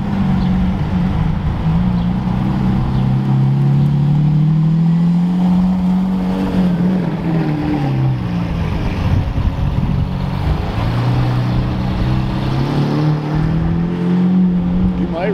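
A sports car exhaust, likely a Porsche 918 Spyder, rumbles loud and close on a rainy day, its engine note rising and falling through revs over about fifteen seconds.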